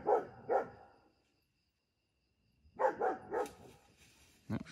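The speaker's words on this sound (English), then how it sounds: "And Lola the dog is somewhere behind there barking at them." A dog barks twice, then after a pause barks several more times in a quick series, moderately distant and somewhat muffled.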